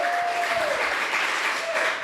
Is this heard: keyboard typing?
no